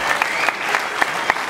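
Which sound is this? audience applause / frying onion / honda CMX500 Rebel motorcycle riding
audience applause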